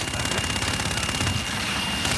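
A sustained, rapid rattle of heavy automatic aircraft cannon fire in Call of Duty: Infinite Warfare, steady and loud, with a thin high whine running underneath.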